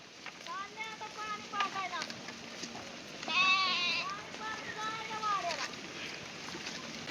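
A flock of sheep out in open countryside bleats repeatedly, several wavering calls overlapping at close to middle distance over a low outdoor background.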